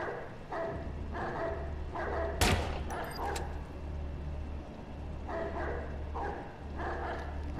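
A dog barks repeatedly in Watch Dogs 2, short yipping barks in several bursts over a low engine-like drone, with a sharp gunshot-like crack partway through.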